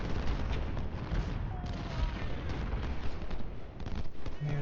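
Distant, continuous rumble of Civil War–era artillery and musket fire in the Ultimate General strategy game at Malvern Hill, a dense battlefield roar with scattered booms throughout.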